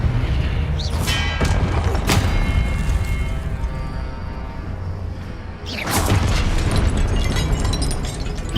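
Spell combat in the Hogwarts Legacy video game, with loud booming blasts, whooshes and bursts layered over a constant rumbling score, one big impact near the start and another surging wave about two-thirds through.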